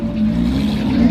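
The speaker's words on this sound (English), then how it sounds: "GT3 sounds so amazing" A Porsche 911 GT3 engine sounds at a busy dealership car show, a loud, steady mid-pitched drone close by with faint background chatter.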